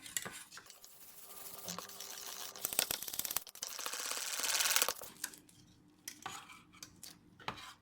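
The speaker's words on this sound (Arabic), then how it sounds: "ونرجع نحرك بنفس الطريقة الى ان يختفي عندنا الطحين مرة ثانية" A spoon scrapes and clatters against a pan while a flour mixture is stirred for Iraqi dahina, with irregular metallic knocks and scraping bursts close by and quieter gaps between them.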